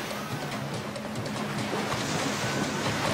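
Ocean waves breaking on the coral reef pass in French Polynesia during a dug-out canoe race, a steady close roar of surf with no talking.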